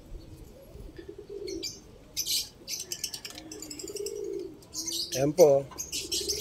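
A small stray pigeon hen coos softly near a loft and then flaps its wings as it is released, brief bursts of wingbeats and rustling mixed with someone talking and birds chirping in the background.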